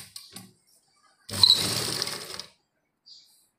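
A sewing machine runs one continuous burst of stitching on a seam, letting out a tight kurta suit. The clip is otherwise quiet, with only a few faint clicks of the mechanism before and after the burst.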